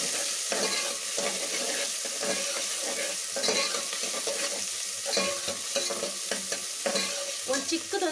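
Curry leaves crackle and sizzle in hot oil for a tiffin sambar, a steady broadband fry with scattered sharp pops and spoon scrapes throughout, close and fairly loud with no talking.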